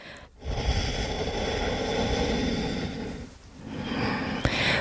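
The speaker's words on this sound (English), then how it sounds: "Especially your exhale has a big ocean wave sound like this." Long, hissing ujjayi breaths drawn through a constricted throat, a rushing, ocean-like whoosh close to the ear, with a brief pause between breaths.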